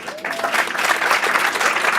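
Audience applause at a startup conference interview in Los Angeles, a steady wash of clapping from a large crowd that swells after a quarter second and holds loud and even to the end.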